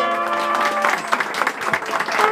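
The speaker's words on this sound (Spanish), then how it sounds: "Y ese aplauso bien fuerte" A crowd gives Stefania a round of applause at a birthday celebration with a youth mariachi, dense clapping throughout, joined early on by a sustained tonal sound or voice before the clapping carries on alone.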